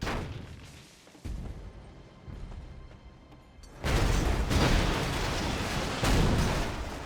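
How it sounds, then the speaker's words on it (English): Battlefield explosions in the real-time strategy game Command & Conquer Generals, during a 1v1 match on the Sand Serpent map: scattered rumbling blasts at first, then a loud, sustained burst of heavy detonations and gunfire-like crackle. "Quite a lot of explosions there."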